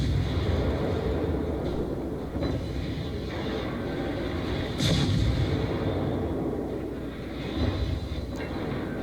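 Secondary guns on a warship fire during a World of Warships naval battle, a dense rumbling barrage of booms and thuds under a constant low roar of engine and sea ambience, loud and continuous throughout.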